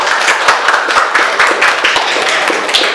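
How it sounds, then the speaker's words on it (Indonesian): Classroom of students applauding a classmate during a photography lesson, a dense burst of many hands clapping steadily and loudly throughout. "beri aplaus dulu untuk Karisa"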